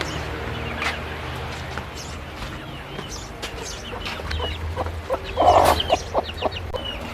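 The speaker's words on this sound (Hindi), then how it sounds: "चले हम दूसरे मुर्गे की तरफ जाते हैं।" A rooster clucks in short, uneven bursts close by, over a low outdoor background.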